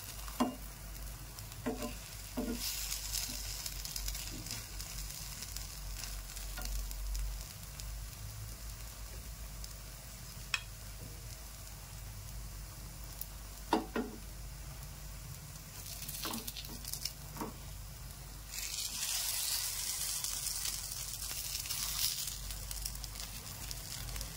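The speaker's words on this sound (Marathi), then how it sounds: "हे बघा किती छान फ्राय होत आहे" High-protein food fries until crisp in a pan, a soft steady sizzle with a few sharp clicks and scrapes and a louder hissing burst near the end.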